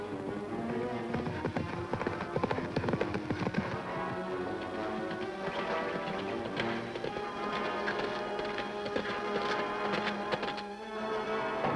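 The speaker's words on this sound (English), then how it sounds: "We'll ride double on my horse, Fury." A horse's hooves clip-clopping in a steady, busy rhythm under continuous rushing background noise, with no talking.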